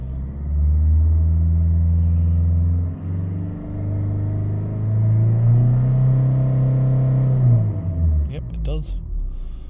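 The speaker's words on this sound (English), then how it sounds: "usually you just give them a little tap of the rev, it wakes it up" A Ford Mondeo engine revs up from idle, its low rumble swelling and falling over several seconds and then dropping back, loud and close, ending with a few clicks.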